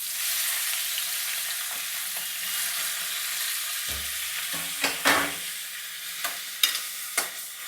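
Chopped onions frying in hot oil with cloves and cinnamon, a steady close sizzle with a few sharp clinks and scrapes of stirring in the pan, no talking.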